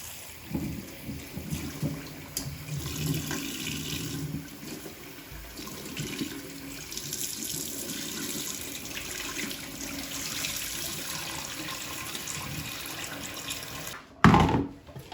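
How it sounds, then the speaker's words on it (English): Cold tap water runs steadily into a sink over chopped bok choy, splashing and gurgling nearby, ending with a brief clatter as the flow stops. "we'll just run this in cold water"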